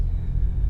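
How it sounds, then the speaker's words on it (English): Deep, steady engine rumble from a 2020 BMW X3 M idling in a parking lot, low and throaty with a constant, even drone and no voices over it. "This car is the best sounding car at idle I think I've ever driven."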